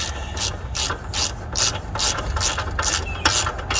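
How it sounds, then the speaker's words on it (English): A ratchet wrench loosens a bolt during a rear two-inch lift install on a Jeep Cherokee Trailhawk. Close, crisp clicking bursts repeat about every third of a second in a steady working rhythm over a low engine-like hum. "I'm just going to ratchet this out."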